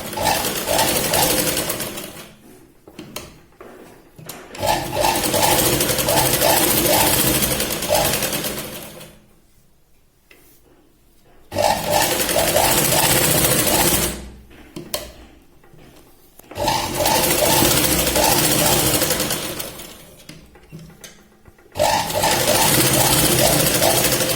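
A sewing machine runs long, steady stitching passes on a katori blouse seam, loud and close, with three sustained runs separated by brief pauses.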